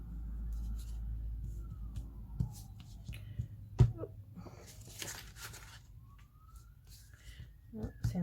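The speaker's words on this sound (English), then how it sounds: "Oh, sounds like an ambulance or something at the front." An ambulance siren wails faintly from a main road out front of a craft studio, its rising and falling tone distant and thin beneath soft nearby rustling and small handling noises.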